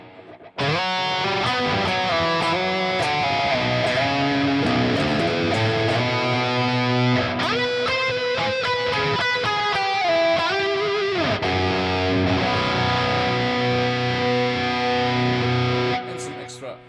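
Electric guitar run through Line 6 Metallurgy plugin effects with a Horizon-style tone, playing a sustained, distorted, effects-laden passage of chords and melodic lines for about fifteen seconds, loud and steady, with no voices over it.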